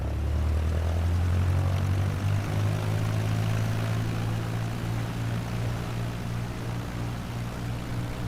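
Small propeller airplane taxiing after landing at Connemara Airport, a steady close engine drone with a low propeller hum holding level throughout, no talk.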